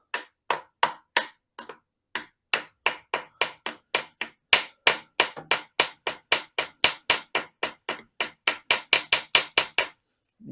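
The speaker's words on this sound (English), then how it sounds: "Smaller hammer." Rapid metal-on-metal strikes from a small hammer working on a VW Beetle swing axle during a transmission refresh, about thirty sharp close blows in a steady, slightly uneven rhythm, pausing briefly early on.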